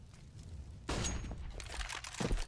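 AWP sniper rifle fire in CS:GO during a Mirage match: a sharp blast with a ringing tail, then a second report close behind it.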